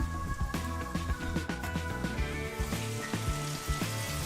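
Chopped tomatoes sizzle in a hot pot of golden fried onions for Malai Kofta, a steady frying hiss with stirring clinks under kitchen background music.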